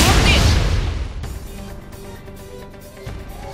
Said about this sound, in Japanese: 格納庫で爆発だ。